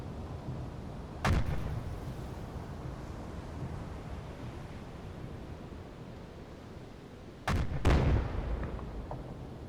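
Heavy naval deck-gun fire from a U-boat in the UBoat game booms over a steady wash of sea and wind, one loud shot early and a pair of close blasts near the end, with no talk.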